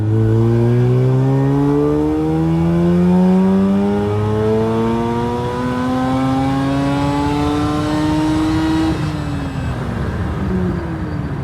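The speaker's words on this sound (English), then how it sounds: "So let's see, we're going uphill, do a little bit of second gear pull." A Mazda RX7, brought back to life after sitting for 12 years, accelerates uphill in second gear. The engine note climbs steadily and loudly for about nine seconds, then drops briefly at a gear change.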